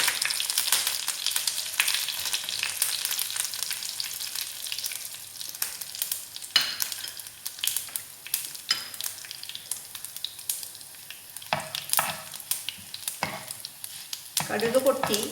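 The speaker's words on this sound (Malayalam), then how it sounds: "വറുക്കേണ്ട സാധനങ്ങൾ കടുകും ഉഴുന്ന് പരിപ്പും എല്ലാം ഇടുന്നുണ്ട്." Mustard seeds and urad dal frying in hot oil for erissery, a loud close crackling sizzle full of rapid sharp pops and spits, with occasional stirring, running steadily throughout without voices.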